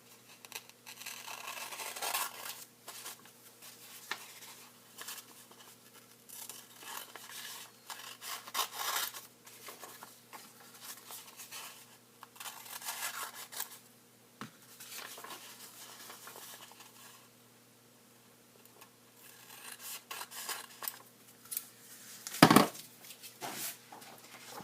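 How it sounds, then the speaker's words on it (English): Paper edges for an origami shikishi display being cut and trimmed at a desk, with quiet scissor snips and paper rustles in irregular bursts, close and soft, one louder crisp snip near the end. "and then I'll just cut these edges here."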